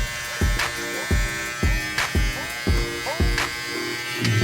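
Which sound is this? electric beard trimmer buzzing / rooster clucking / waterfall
electric beard trimmer buzzing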